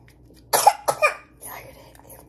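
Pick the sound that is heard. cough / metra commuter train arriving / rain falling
cough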